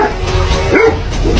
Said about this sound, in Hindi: ये डॉग एंटीटर को देखकर भौंक रहा है